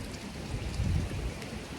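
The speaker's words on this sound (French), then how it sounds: "il pleut, il y a de l'orage." Steady rain falls during a thunderstorm in Annonay, a dense hiss of drops on surfaces with a faint low rumble swelling briefly in the middle.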